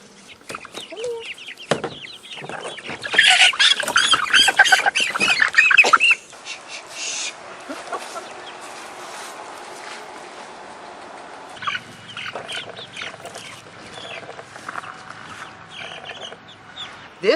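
Jersey Giant chickens on Spring Island, South Carolina squawk and cluck close by in bursts, loudest in a busy flurry early on, then settling into quieter intermittent clucks and rustling.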